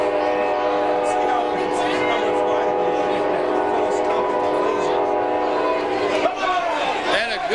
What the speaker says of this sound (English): that train's taking over